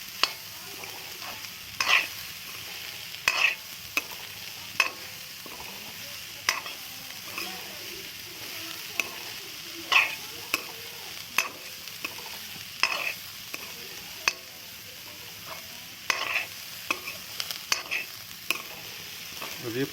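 Spices frying in a pan while being stirred for aloo paneer chop, a soft continuous sizzle broken by sharp, irregular clinks and scrapes of the spoon against the pan, close and alone.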